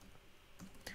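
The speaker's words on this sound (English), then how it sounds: "sorry, I'm still getting used to typing and talking at the same time." Typing on a computer keyboard during a coding tutorial: a few soft, quiet key clicks, with a small cluster of taps near the end.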